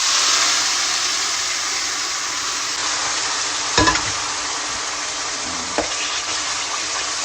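Curry being stirred into tomato chutney in a pan, a steady broad sizzle throughout with a couple of brief scraping knocks of the spoon partway through, no talking.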